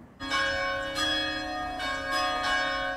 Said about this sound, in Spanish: Este es el sonido tradicional de las campanas de la iglesia Nuestra Señora del Rosario